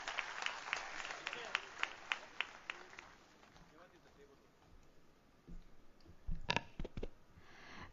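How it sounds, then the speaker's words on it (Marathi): Audience clapping at an award ceremony for chess player Divya Deshmukh, a sparse, uneven patter of claps in a hall, faint and somewhat distant, with a few louder claps near the end. "जोरदार टाळ्या वाजवूयात."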